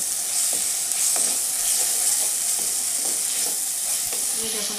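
Masala and boiled potatoes fry in oil in a pan for a Bengali katla fish curry, giving a steady close sizzle with faint stirring scrapes throughout and no voices.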